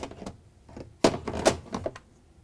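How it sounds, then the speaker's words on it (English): Frigidaire dishwasher dispenser assembly being lifted out of the opened door, giving a few sharp plastic clunks and rattles, one loud knock near the middle, then softer scraping. "we can lift the dispenser out."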